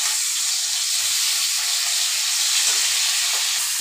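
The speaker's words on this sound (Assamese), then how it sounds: "এতিয়া মই সেই গুড়া মাছবিলাক মই হালকাকৈ ফ্ৰাই কৰি ল'ম।" Small fish fry lightly in a hot pan, giving a steady loud sizzling hiss with faint crackles and no talk.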